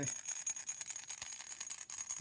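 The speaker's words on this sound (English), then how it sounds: "I also put rattles inside the pots" Rattles sealed inside handmade ceramic pots give a light, rapid clatter and tinkle of small pieces striking the walls, a busy run of close, bright hits with brief pauses and no one speaking.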